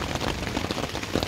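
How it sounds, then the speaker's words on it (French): Rain patters on a camping tent during a thunderstorm at a campsite in Émoutier, a dense close drumming of drops on fabric that continues without pause. "Il pleut."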